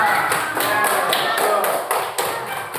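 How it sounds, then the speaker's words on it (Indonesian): Students in an elementary school classroom clap a rhythmic 'tepuk semangat' cheer together, a steady series of sharp, evenly spaced claps, close and loud, with voices mixed in. "Ayo, tepuk semangat dulu, tepuk semangat. Tepuk tangan di tempatnya."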